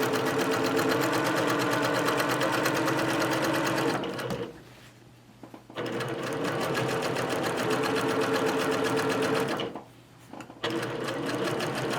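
A sewing machine stitches along the outside edge of a shirt, with a close, rapid mechanical whirring in two long runs, each followed by a brief pause.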